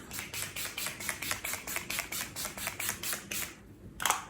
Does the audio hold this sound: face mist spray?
yes